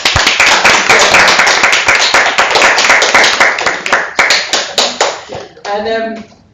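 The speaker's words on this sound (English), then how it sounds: "give our panellists a huge round of applause" An audience claps for panellists at a live event, with individual hand claps standing out sharply and close before thinning into a few last claps as a voice comes in at the end.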